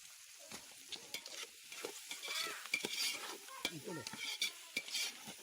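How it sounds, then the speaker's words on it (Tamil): Garlic hits a hot frying pan and sizzles while being stirred, with scraping and frying crackle coming in bursts, close and moderately loud, for a home-cooked chicken curry. "டேஸ்ட்டுக்கு கொஞ்சம் பூண்டு போட்டுக்கிறோம்"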